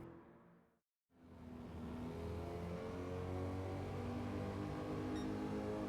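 A 1958 Chevrolet Corvette C1 races in Gran Turismo 7. After a brief dropout, its engine returns as a loud, steady drone that holds without letup.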